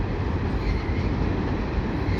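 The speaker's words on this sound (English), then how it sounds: "Got a train heading eastbound here on this little island just off of Perrot" A CN mixed freight train passes eastbound on a small bridge near an island, giving a loud, steady, continuous rumble and roar of rail cars close by.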